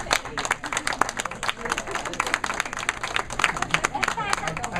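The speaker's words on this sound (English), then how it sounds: "they deserve a special show of applause" Guests at a family reunion break into lively applause, many hands clapping in a dense, uneven patter nearby, with voices talking and calling out over the clapping.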